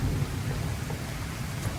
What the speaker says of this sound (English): It's raining again and there's thunder out here